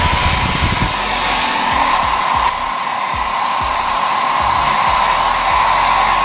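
Maspion MHD 104 WP hair dryer running on its first, lowest speed setting, giving a steady, loud, continuous airy whoosh with a constant motor hum throughout, with no talking.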